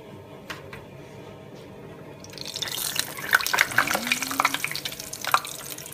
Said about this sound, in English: So the last longus is cooking.